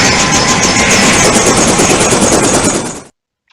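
Helicopter in the naval combat simulation game Command Modern Air/Naval Operations, a loud, steady rotor and engine roar held for about three seconds before cutting off abruptly into silence.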